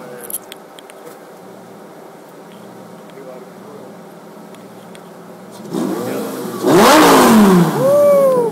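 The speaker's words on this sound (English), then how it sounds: "Time to rev the engine." A yellow Lamborghini on a Lower East Side street in New York idles quietly before breaking into loud, rising revs near the end, with engine pitch sweeping up and down over a burst of street noise and voices.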